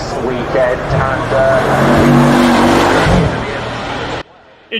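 Bugatti hypercar exhaust while accelerating, a loud, close engine drone with rising tones and shifts in pitch that swells, holds, then cuts off abruptly into near silence.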